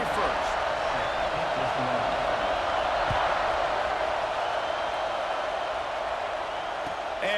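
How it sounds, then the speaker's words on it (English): Steady stadium crowd roar from a Michigan Wolverines college football game in College Football 26, a dense continuous wash of noise at kickoff with a commentator talking over it. "This crowd ready to make its presence known."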